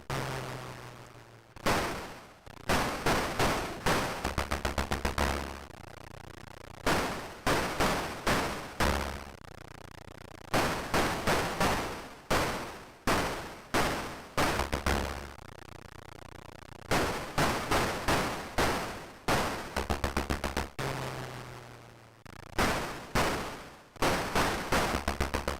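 Shooting at ships in an Intellivision video game: repeated rapid bursts of electronic gunfire in rhythmic volleys, separated by brief pauses with a low hum between them.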